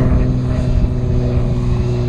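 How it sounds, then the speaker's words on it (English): A propeller airplane passing overhead on a windy day, a loud steady droning hum with a sustained engine tone throughout. "let's let this plane fly by first real quick"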